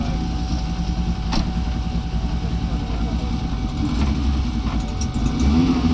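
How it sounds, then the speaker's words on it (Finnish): A Toyota Team Tampere GT Corolla rally car at a historic rally ceremonial start gives a steady engine rumble, moderately close, as it pulls off onto the route, with a commentator talking over it. "Todella upea on Toyota Team Tampereen GT Corolla, kun tuonne reitille lähdetään."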